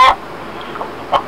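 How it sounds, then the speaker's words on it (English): A recording of a noisy chicken clucking, played back on a phone: a sharp squawk at the start, faint clucks in the middle and another short squawk near the end, all fairly close and on their own. "Hey, Catbot, that chicken sounds good on this thing"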